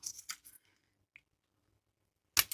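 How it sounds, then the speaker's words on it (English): A quick snip of scissors cutting the tip off a large plastic piping bag, a crisp close cut that follows a few soft rustles and a faint click in an otherwise quiet room. "I'm going to get one of these big ones and I'm going to cut the tip off"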